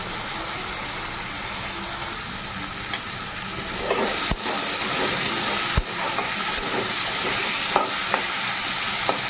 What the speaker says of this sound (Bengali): আলুটা একটু লাল করে ভাজা হোক